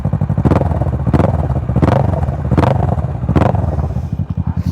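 A Kawasaki Ninja 650 KRT's two-cylinder exhaust revs hard in several loud, sharp bursts, each rising and falling, with a rumbling idle between them, close by.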